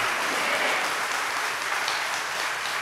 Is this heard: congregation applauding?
yes